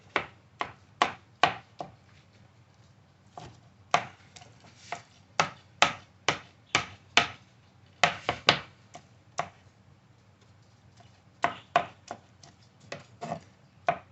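A knife chops Texas peppers on a board in quick bursts of sharp, close taps, with short pauses between runs and a quiet room behind, with no talk.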